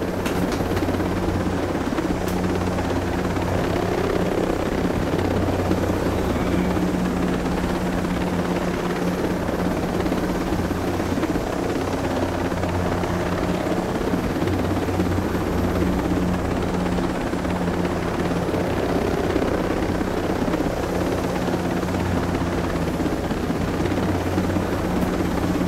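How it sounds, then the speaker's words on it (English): Helicopter flying in the Ghost Recon video game, a loud continuous rotor and engine drone that holds steady and unbroken throughout, with no speech over it. "They're gonna make a game where you can run out of gas in a helicopter in the middle of the ocean and die."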